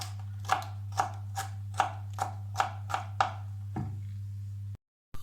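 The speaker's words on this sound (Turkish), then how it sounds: "aynı şekilde domateslerimi doğradım" Steady knife chops through tomatoes on a cutting board, about eight evenly spaced strokes, close and clear over a low hum, then a pause.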